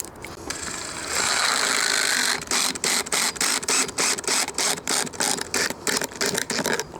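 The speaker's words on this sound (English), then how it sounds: "go ahead and screw in where I marked it on here" A screw being driven into a gutter hanger: a dense whir, then rapid rhythmic ratcheting clicks in short bursts, close and fairly quiet, with no voices.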